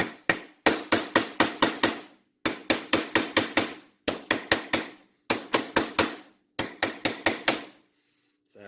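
A small hammer taps on a motorized bicycle engine part in four quick bursts of five to seven sharp, ringing metallic strikes each, close and loud with short pauses between.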